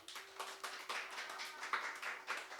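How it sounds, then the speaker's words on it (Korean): A church congregation at a Sunday joint worship service claps for a child's Bible quiz award, a faint, steady patter of hand claps in quick uneven bursts. "박수 한번 주세요"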